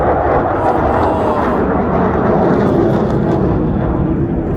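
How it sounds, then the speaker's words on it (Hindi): A loud, steady roar of an Apache helicopter close by at an air show, broadband rumble filling the whole clip without letup. "बहुत ही सुंदर हेलीकॉप्टर है, अमेरिकन मेड है।"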